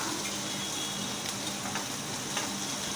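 Chopped onion, coriander and green chili sautéing in a hot pan for poha, a steady close crackling sizzle with faint stirring scrapes throughout, no voices.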